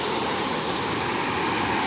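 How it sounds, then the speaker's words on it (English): Steady, loud roar of a waterfall, a dense broadband rush filling the whole short stretch without pause, close by and unbroken by any voice. "Back to the waterfall."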